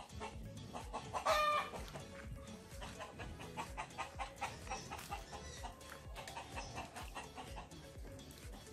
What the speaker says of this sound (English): you see him always making noise whenever time I'm vlogging that's the rooster right there